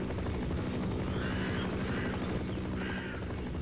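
A helicopter in modded hardcore Minecraft, a steady low rhythmic rotor thump that stays constant, with faint caw-like cries rising above it.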